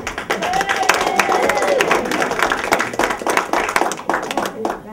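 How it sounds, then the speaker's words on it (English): A crowd at a senior center St. Patrick's Day party claps and cheers in lively applause, hands patting rapidly, with voices and whoops mixed in throughout. "How about a round of applause for Mary?"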